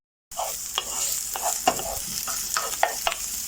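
A wooden spoon stirs a vegetable stir fry in a hot pan, with a steady sizzle and repeated scraping strokes at an irregular rhythm, close and moderately loud, no voices.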